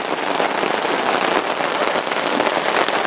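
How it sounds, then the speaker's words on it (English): Rain falls steadily on a mountain campsite in the Rocky Mountains, a loud, even hiss of drops pattering on surfaces with no break. "It's raining."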